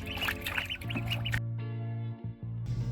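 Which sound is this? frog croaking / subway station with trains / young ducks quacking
young ducks quacking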